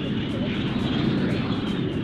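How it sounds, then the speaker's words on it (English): SR-71 Blackbird spy plane arriving at an air show after a transatlantic flight, a steady loud broadband jet roar that holds without break for the whole stretch. "The dramatic curtain raiser to the show is the arrival of the American spy plane, SR-71"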